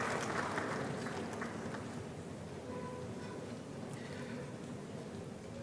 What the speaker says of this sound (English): Please clap for Pharmaceutical Society of Ghana